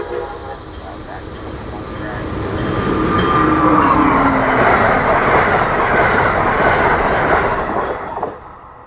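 Norfolk and Western 611 train on the move near Lancaster, a loud continuous rumble of wheels and rolling stock that swells and stays close, then cuts off at the end.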